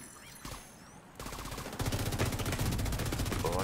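Enemy gunfire in The Division 2 erupts after a brief lull into dense, rapid automatic bursts, loud and close, rattling on continuously through the second half.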